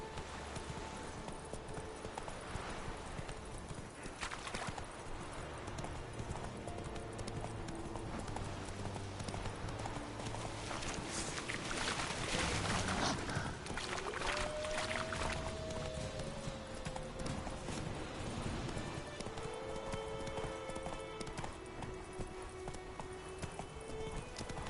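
Horse hooves clip-clop in a steady, even rhythm throughout. The sound is faint and distant, with a couple of brief whinny-like tones partway through.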